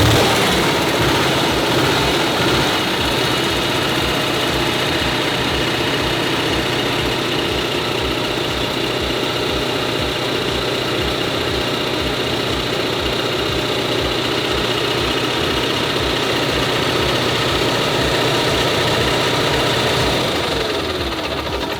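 An Onan RV generator engine runs steadily after an oil change, a loud, constant idling drone with a low rhythmic knock throughout, close and with no voices.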